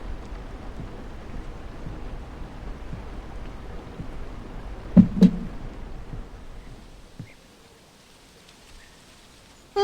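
Steady rain falls in the video game How We Know We're Alive, a constant soft hiss with a couple of sharp knocks midway, then fading out to near silence for the last few seconds.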